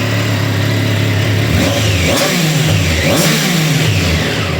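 Engine of a 2024 Triumph Tiger Sport 660 motorcycle running loud and close, rising and falling through a few revs with steady rumble throughout, no speech.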